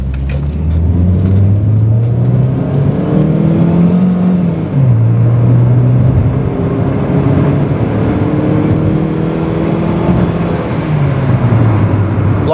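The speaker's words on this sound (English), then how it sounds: "we're doing an acceleration test from behind a Suzuki Super Carry" Mitsubishi 1.5 automatic car accelerating hard in an acceleration test: a loud, close engine drone climbs in pitch, drops as the gearbox shifts, then climbs again in a steady cycle.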